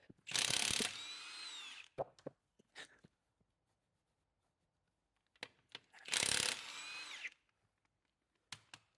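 A power ratchet removing a wheel from a BMW X5 M50d, heard as two loud whirring bursts of about a second each, separated by quiet spells with a few short clicks and knocks, close by, with no speech.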